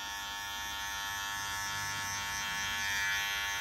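Electric hair clipper buzzing steadily and close while cutting hair in a barber lesson, a constant motor whine with no talking.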